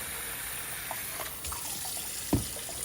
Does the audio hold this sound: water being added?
yes